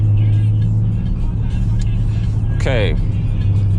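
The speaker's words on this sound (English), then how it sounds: "you can also hear it in the sound of the exhaust note" Exhaust of a car with a Nissan VQ35 V6 engine while driving, a steady low drone close by with a brief passing swoosh near the end, while a person talks over it.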